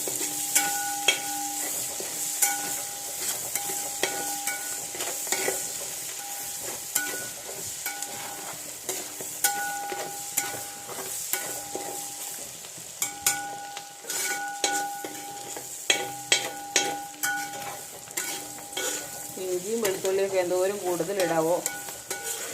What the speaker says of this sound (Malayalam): നല്ലപോലെ ഇളക്കി അതിൻ്റെ പച്ച മണം മാത്രം അങ്ങ് മാറിയാൽ മതി